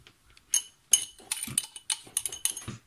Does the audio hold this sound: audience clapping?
no